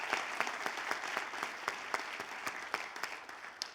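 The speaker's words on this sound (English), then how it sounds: "So give yourselves once more a big round of applause for coming from far and wide." An audience applauds at a Latino and immigrant California Senate candidate forum, with dense, steady clapping that holds at a fairly even level throughout and is punctuated by a few sharper individual claps.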